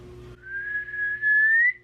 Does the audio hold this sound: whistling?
yes